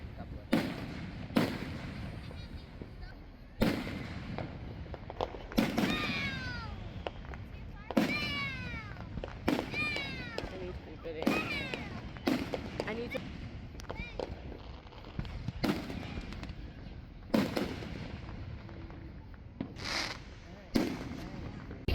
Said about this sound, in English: I loved seeing all the fireworks.